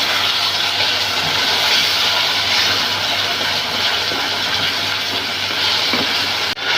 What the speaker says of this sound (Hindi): इसको अच्छी तरह से मिक्स कर लेंगे और अच्छी तरह से भूनेंगे